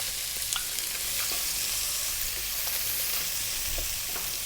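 Cumin seeds and chopped onion fry in oil over high heat, a dense close sizzle scattered with small pops and crackles, without any talk.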